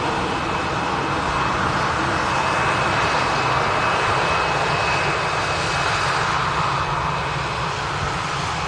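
A Ryanair Boeing 737 departs, a continuous loud jet roar with a thin steady whine, close and unbroken throughout, with no voices over it.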